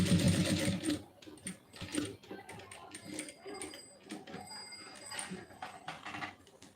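Sewing machine stitching a lining onto a blouse, giving bursts of rapid mechanical needle clatter that start and stop close by, with brief pauses between runs.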